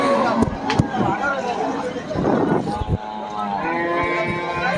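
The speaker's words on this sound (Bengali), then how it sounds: "দেখুন এই পাশের গরুগুলো দেখুন অনেক গরু অনেক এলাকা জুড়ে এই গরুর হাটটা" Cattle at a busy open-air cow market in Deohata low out in several deep, drawn-out moos, some close and some farther off, over a constant murmur of crowd and voices.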